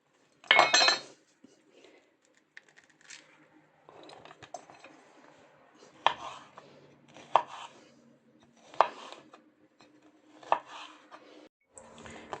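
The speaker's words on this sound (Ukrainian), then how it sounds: "розрізаю персик, зараз його наріжу на кубики" A knife chops a peach into cubes on a cutting board, giving a loud first cut and then a series of sharp, evenly spaced taps close by, with faint clinks between them.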